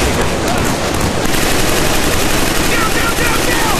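Gunfire in the Killzone 3 video game rattles loud and without pause, a dense, harsh stream of rapid shots filling the whole stretch.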